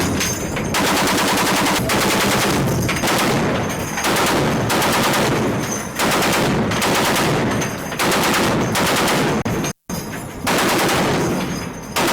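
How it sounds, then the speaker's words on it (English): M2 heavy machine gun firing in long, loud bursts of rapid, evenly spaced shots, separated by brief pauses. "This machine gun is powerful and keeps being upgraded."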